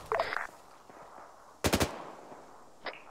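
Arma 3 machine gun fire: a single tight burst of rapid shots midway, with a couple of faint, distant shots before and after against a quiet background.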